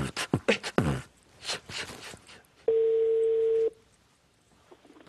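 A telephone line cuts off and a steady single-pitch dial tone sounds for about a second, clear and close, after a stretch of speech.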